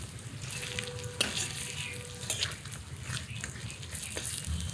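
Pumpkin-leaf fritters made with ground lentil and rice batter sizzle in hot oil in a wok, a steady close crackle with a few soft clinks of a utensil as they are turned.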